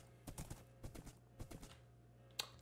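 Several bursts of rhythmic video game hoofbeats clip-clopping, a horse trotting in short runs with brief pauses, fairly quiet and with no talking.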